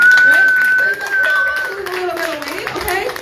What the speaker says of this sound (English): Let's give a round of applause for that 10 pounds.